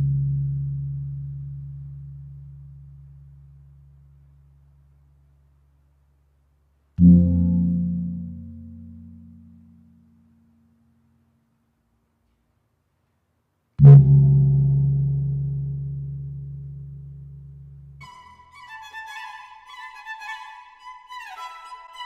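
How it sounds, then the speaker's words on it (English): A Malaysian gong is struck three times at spaced intervals, each stroke a deep, loud boom that rings on and fades slowly to silence, followed by brighter metallic ringing at the end. "Gong."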